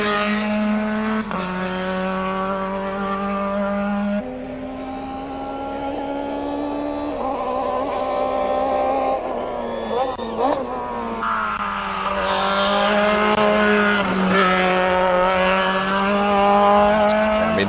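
Race car at the Simola hillclimb, its engine revving hard and close through a series of rising gear pulls with brief shift drops, loud and continuous throughout.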